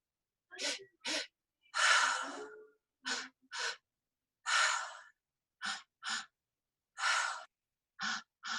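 Guided pranayama breathwork: a series of sharp, loud paired inhales followed by longer exhales, repeating in a steady rhythm with silent pauses between, close and clear with no speech.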